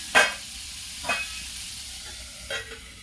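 Mung dal chilla filling roasts in a covered pan with a soft, steady sizzle. Three brief clinking stirs or lid touches rise above the frying.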